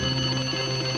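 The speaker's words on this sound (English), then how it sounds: "some burglar alarms on the market are more likely to annoy your neighbours than deter or help catch an intruder" A burglar alarm rings steadily, a continuous electronic tone with a sustained bright pitch holding at even loudness from start to finish, with no voices over it.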